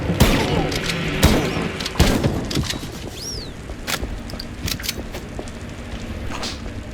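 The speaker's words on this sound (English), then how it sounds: "was that gunfire just now?" Gunfire in Mouse P.I. For Hire cracks as a handful of sharp, loud shots and thumps spaced irregularly over several seconds, with a whistling sweep midway and quieter clatter trailing off.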